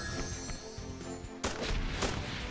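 Gunfire in the Angry Granny video game on Android: rapid shots and blasts with a sudden louder burst midway, dense and close, with no talking.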